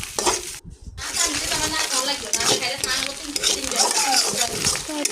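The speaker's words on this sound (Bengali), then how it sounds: "কড়াইতে তেল দিয়ে ডিমগুলোকে জোড়া করে ভেজে নিচ্ছি" Eggs fry in oil in a wok, sizzling steadily while a utensil stirs and clinks against the metal pan and dishes in a close, busy kitchen.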